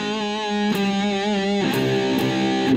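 Guitar playing a song in the original key, sustained strummed chords ringing out and then changing, with a few sharp strums near the end; close and alone with no voice.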